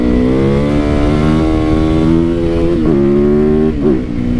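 A 450 supermoto motorcycle engine runs loud and close, its tone rising and falling through several throttle blips with steady harmonic drone throughout.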